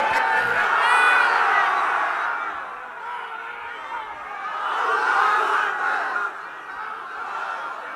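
A large crowd at an Islamic mahfil gathering in Shoilgachhi, Naogaon, roars the takbir in unison, loud massed chanting that swells, dips and rises again in a second surge.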